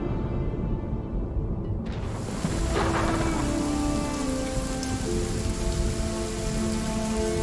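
Steady rain pours down in the salt desert in Lost Ark as a continuous hiss, joined partway through by a low sustained tone and faint chimes, loud and close throughout.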